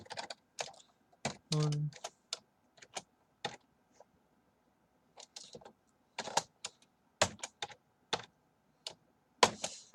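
Irregular bursts of clicky keystrokes on a computer keyboard, quiet and close, with short pauses between runs of typing.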